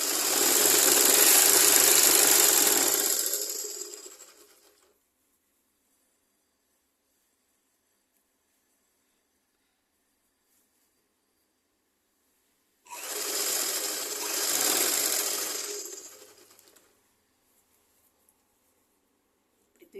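A sewing machine stitches a long top in two bursts: a loud whirring run of about four seconds, a long silence, then a second, slightly softer run of about four seconds.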